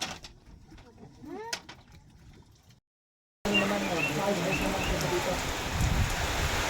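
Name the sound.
rain falling in the mountains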